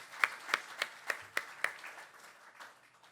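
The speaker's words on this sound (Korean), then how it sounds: "우리 모두 전체를 위해서 박수 부탁드립니다" Audience in a church seminar clapping together in response to a call for applause, a handful of sharp distinct claps at first that quickly thin out and fade into scattered, quieter clapping.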